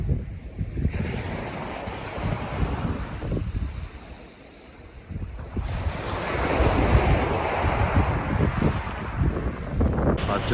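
Waves break and wash along the Norfolk coast, a loud, close roar of surf with heavy wind buffeting the microphone. The rush dips briefly and then swells back strongly, with no talking.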